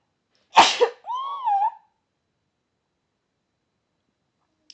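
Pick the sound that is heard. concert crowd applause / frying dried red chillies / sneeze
sneeze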